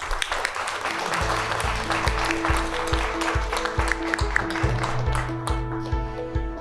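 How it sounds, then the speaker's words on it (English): Applause for the panelists after a pharmaceutical venture capital panel discussion, a dense spread of clapping over a backdrop of rhythmic music beats. "Please give the speakers a big round of applause again."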